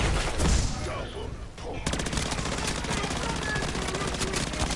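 Rapid automatic gunfire in MW3 Zombies, a dense, steady stream of shots after a brief lull, sustained and loud to the end.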